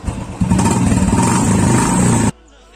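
A Royal Enfield motorcycle fitted with a short silencer roars loud and close, its exhaust thumping steadily for about two seconds before cutting off abruptly to near silence.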